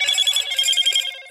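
A mobile phone ringtone goes off during a Call of Duty match, a bright repeating electronic ring pulsing steadily and fairly loud for just over a second, with no talk over it.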